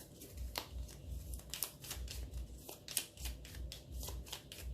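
Lenormand cards are riffled and shuffled by hand in a series of quick papery bursts and flicks, close and moderately quiet, with no voices.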